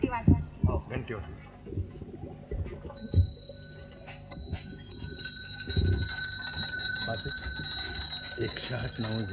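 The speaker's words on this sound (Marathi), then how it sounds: "घंटी वाजवा. हो घंटी वाजवा." A small hand bell rings during a Hindu puja at Saptashrungi, Nashik, a sustained bright metallic tone over the second half, while people talk and chant close by.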